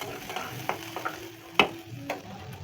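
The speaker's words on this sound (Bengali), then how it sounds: "পেঁয়াজ কুচিটা একটু ভেজে নিচ্ছি বন্ধুরা।" Chopped onion frying in hot mustard oil, with a soft sizzle under a few sharp clicks and scrapes as a spatula stirs the pan, close and alone without speech.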